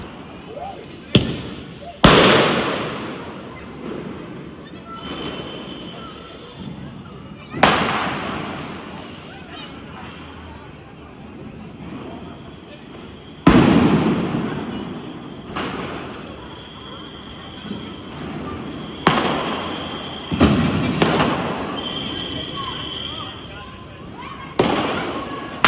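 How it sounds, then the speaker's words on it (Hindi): Sky shot fireworks burst at a Diwali celebration: a series of sharp, loud booms spaced several seconds apart, each trailing off in a crackling, echoing decay over the night ambience. "तो ये जो स्काई शॉट्स होते हैं ना,"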